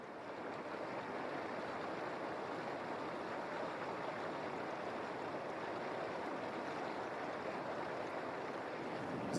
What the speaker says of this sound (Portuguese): Nascentes de água quente extremamente ácidas borbulham.